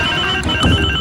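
A telephone rings indoors in a household scene, a steady electronic ringing tone, loud and close.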